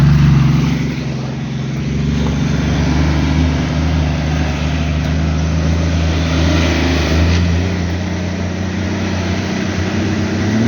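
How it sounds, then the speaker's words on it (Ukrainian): Off-road jeep engines rumble and rev continuously at close range on a motocross track, a loud steady roar with slight surges, no talking. "Дикі джипери газують."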